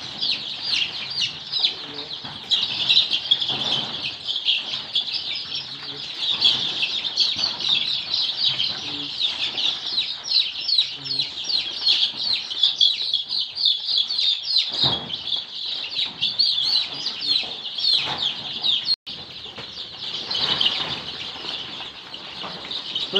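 Local chicken chicks peep constantly in a dense, high chorus while they are being counted, a steady loud twittering that barely pauses.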